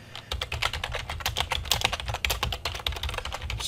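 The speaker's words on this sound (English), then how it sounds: "Just type that in like so." Rapid, steady typing on a computer keyboard, close and fairly quiet, a continuous patter of key clicks with no talking.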